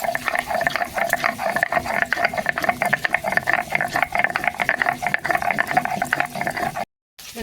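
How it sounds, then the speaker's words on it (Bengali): Dried red chillies and onion are ground into a paste, a steady gritty rasping and scraping that continues evenly for several seconds, then stops briefly near the end. "দেখুন শুকনো লঙ্কা আর পেঁয়াজ বেটে নেবো"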